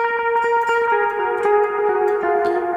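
A melody section from the Zelda video game theme plays as a bright, sustained lead line over chords, with echo and reverb effects and a loud, steady level throughout, with no talking.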